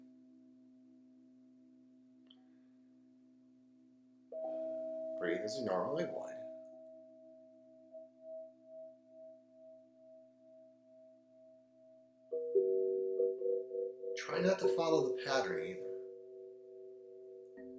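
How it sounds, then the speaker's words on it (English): Pure, harmonically complementary tones arrive in a random sequence, each held steadily and separated by pauses, while a calm voice speaks softly over them. "Right now, you're hearing a random sequence of tones that are harmonically"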